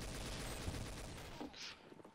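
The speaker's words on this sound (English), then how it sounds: "Somebody's shooting me." Rapid gunfire in the Trouble in Terrorist Town video game, a dense crackling fusillade heard up close and fairly loud, thinning out toward the end.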